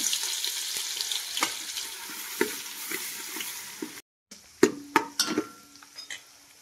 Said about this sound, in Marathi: आता फोडणीला द्यायला सुरुवात करूया